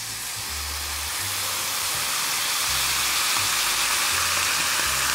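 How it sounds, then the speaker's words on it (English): Red wine poured into a hot cast iron pan to deglaze it, making a loud, continuous steamy hiss and sizzle that holds for several seconds over a faint low hum. "Now we're going to grab our red wine, and we're going to deglaze our pan"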